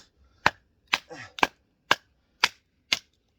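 A knife splitting frozen firewood outdoors below freezing, seven sharp, close wooden cracks at an even pace about half a second apart, with a short voiced sound between two of them.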